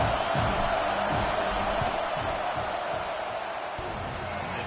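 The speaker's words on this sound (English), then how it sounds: "This crowd trying to do its part to get inside the kicker's head." A football stadium crowd roars during a field goal attempt, a dense, steady wall of distant cheering and shouting that holds for several seconds without letting up.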